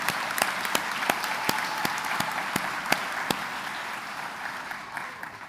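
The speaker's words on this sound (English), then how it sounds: "So I'd like to give them all a round of applause just to get started for being here tonight." Applause from a commencement audience at Kirtland Community College for graduating students, a steady wash of many hands clapping with sharp individual claps standing out, moderately distant in a large hall.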